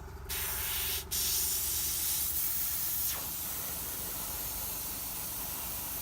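Airbrush blowing air to dry paint on a Red Cap miniature, a close steady hiss with brief on-off breaks near the start, then easing down to a softer continuous rush.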